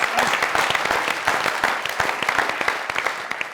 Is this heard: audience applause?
yes